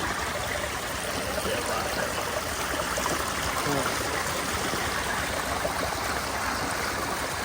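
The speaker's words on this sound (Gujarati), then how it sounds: "મસ્ત મજાનું ઝરણું આ જંગલની મજા છે" A forest stream flows steadily with a continuous broadband rush and trickle, close and even throughout, with no voices.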